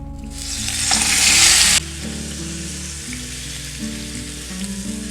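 Oil sizzles and crackles loudly as chicken hits a hot pan, a bright hiss that swells then drops to a steady, quieter frying sizzle.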